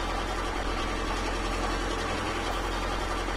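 Continuous car engine noise from The Long Drive video game at full throttle, a level low drone with a slight knocking texture, close and constant, alone without speech.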